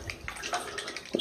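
Water from a tap rinses over a toy, giving brief, faint splashes and trickles with a small drip-like plink near the end, close by and without speech.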